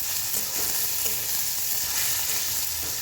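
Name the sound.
potato frying and being stirred in oil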